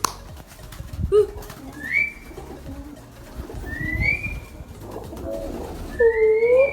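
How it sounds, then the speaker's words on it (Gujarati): Pigeons coo in soft, repeated rolling calls that echo inside a stone stepwell, with a rustle of wings between. "વાવ કૂવામાં છે બહુ બધા કબૂતર"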